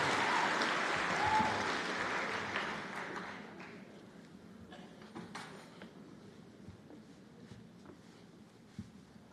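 Applause from the audience at a white coat ceremony, loud dense clapping at first that thins and fades out over a few seconds into a quiet room with scattered claps.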